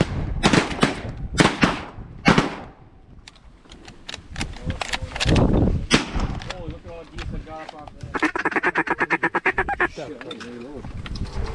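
Shotgun blasts ring out during a North Dakota duck and goose hunt, several sharp close reports early on, amid honking geese and quacking ducks, with hunters talking throughout.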